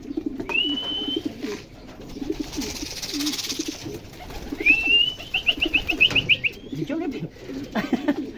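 Racing pigeons coo in low, repeated throaty bursts close by during club training in Calamba, Laguna, while sharper whistling bird calls cut in twice and a person talks briefly underneath.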